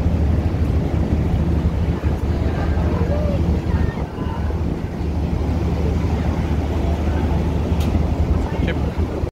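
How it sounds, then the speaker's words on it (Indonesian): Strong wind buffets the microphone with a deep, constant rumble, over ferry engine drone and sea noise, with occasional faint voices. "Ini ombaknya lumayan ya, anginnya lumayan kencang."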